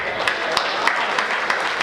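A crowd at a Hindi hasya kavi sammelan (comedy poetry gathering) claps in a short burst, with scattered sharp individual claps over a thick wash of clapping, close and fairly loud, with a voice mixed in.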